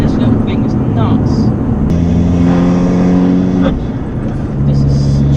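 A modified Abarth with about 200 horsepower revs hard, its loud engine drone rising in pitch, then settling, with a sharp bang near the start and talk from the cabin over it.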